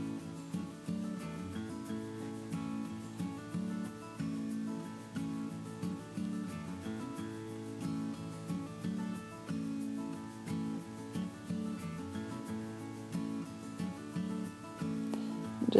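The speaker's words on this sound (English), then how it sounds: "Just rubbing that penny around the edges." A copper penny rubbed around the edges of an art journal page, a soft repeated scraping in steady back-and-forth strokes, faint and close, with quiet background music.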